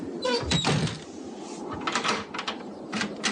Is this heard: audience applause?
no